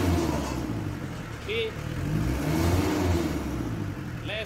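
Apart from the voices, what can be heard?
4D56 diesel engine revving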